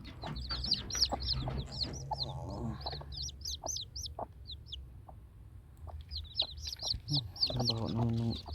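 Chickens and small chicks in a backyard mini yard cluck and peep in frequent bursts, with chirps overlapping throughout and a denser flurry of clucking near the end, close and moderately loud.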